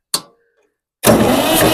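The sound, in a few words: 1962 Massey-Ferguson 35 tractor engine cranking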